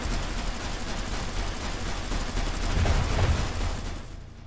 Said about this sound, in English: All guns fire.